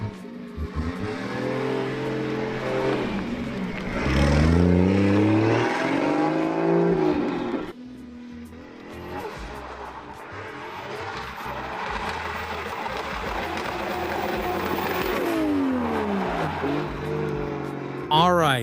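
A Nissan 2JZ-powered drift car drives through a turn in a stadium, its engine revving up and down in loud rising sweeps with tyre noise, passing close then easing off before accelerating again.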